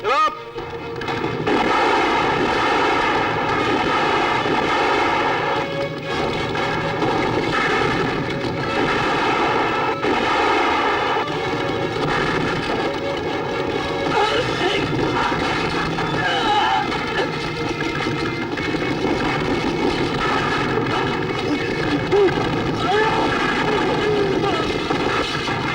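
A continuous, loud aircraft engine roar with a rhythmic chopping texture runs throughout, like a helicopter running nearby.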